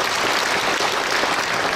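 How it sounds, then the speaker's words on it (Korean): Brief, dense burst of applause from a church congregation at a gathering honoring retired pastors, steady clapping filling the room with no pause. "박수 한 번 더 쳐주시면 고맙겠습니다"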